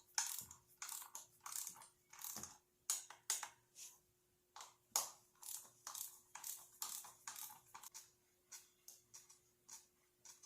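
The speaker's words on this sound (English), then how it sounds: "I'll torque these down the same as what the rest of the valve cover was" A ratchet tightens the valve cover bolts on a Cobalt 2.2L engine, with irregular bursts of sharp close clicking and pawl ticks separated by short pauses, fairly quiet overall.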